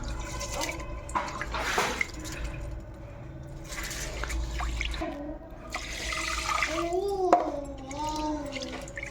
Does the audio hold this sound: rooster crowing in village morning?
no